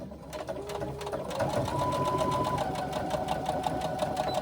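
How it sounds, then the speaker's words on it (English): A sewing machine stitches a 3/8 inch seam across folded fabric for a swim bag, a fast, even mechanical rattle running continuously at close range. "Bring it to your machine and stitch a 3/8 inch seam across where you've just folded it"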